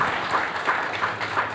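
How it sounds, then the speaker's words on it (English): Audience applause at a ribbon-cutting ceremony in Newark's West Ward, a steady dense wash of clapping that stays fairly even and moderately loud throughout, with no clear voices over it. "Give a round of applause."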